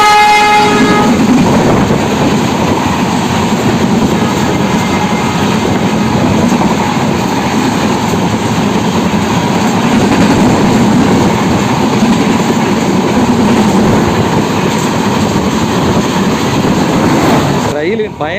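A Karaikal–Lokmanya Tilak Terminus express train passes close by, a loud, steady rumble of wagons with horn-like tones near the start, continuing unbroken for about eighteen seconds before cutting off.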